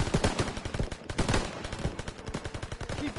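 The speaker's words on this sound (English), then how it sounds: "Hey, geez, open fire." Rapid gunfire rattles in Call of Duty WW2, close, loud overlapping bursts of shots firing in quick succession with no pause for the full few seconds.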